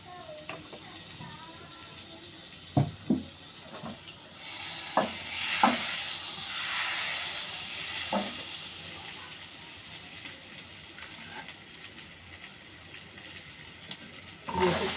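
A little oil sizzles and hisses in a cooking pan, swelling in bursts amid sharp clinks of utensils and a soft running-water wash.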